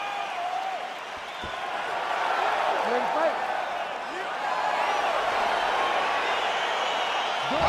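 Virtual arena crowd in the UFC 4 video game roars steadily throughout as a fight begins, a broad sustained cheer with a referee voice and commentary over it.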